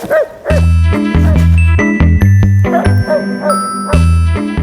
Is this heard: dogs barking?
yes